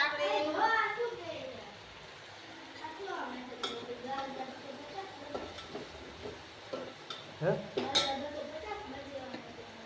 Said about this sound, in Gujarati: તમે જોઈ રહ્યા છો કે વઘાર થઈ રહ્યો છે અત્યારે તપેલીની અંદર